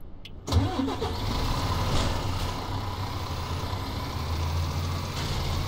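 Vehicle engine running steadily while driving in the video game Ranch Simulator, a continuous loud mid-pitched hum that starts abruptly after a brief silence and holds without talk.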